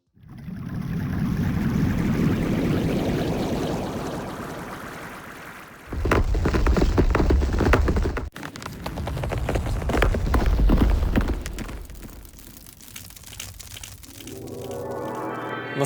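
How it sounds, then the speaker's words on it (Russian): A granular synthesis particle texture built in GameSynth swells in dense, grainy washes, breaks into crackling bursts and then settles into a thinner, rising shimmer near the end, with no voices. "Particles позволяет создавать аудиотекстуры на основе частиц любых звуков"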